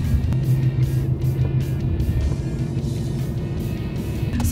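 Interior of a moving car heard from the back seat, a continuous low road rumble and engine hum at steady loudness.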